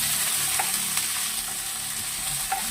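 Onion browning in a pan, a steady, even sizzle with a few soft pops and light stirring knocks, close and continuous with no talk.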